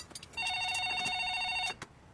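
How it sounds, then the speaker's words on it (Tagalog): A telephone rings with a single trilling electronic burst, clear and close, surrounded by faint clicks and room noise. "Val, ang telepono! May telepono"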